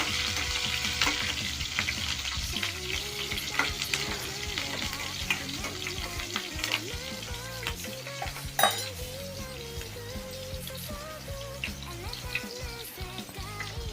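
Eggplant and fenugreek curry with green chillies fries in a pan, giving a steady close sizzle with occasional stirring and utensil scrapes, one sharper clink midway, and no talking.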